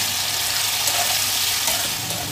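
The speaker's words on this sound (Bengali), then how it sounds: "পেঁয়াজগুলো আমি বেরেস্তার জন্য ভেজে নেব" Sliced onions fry in hot oil for birista with a loud, dense, continuous sizzle and crackle that holds steady throughout.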